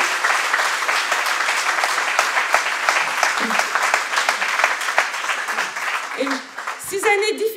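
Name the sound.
audience applause at a political speech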